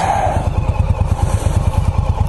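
An Indian Scout Bobber cruiser motorcycle engine thumps with a steady, throaty rhythm, loud and close, as the bike rolls along.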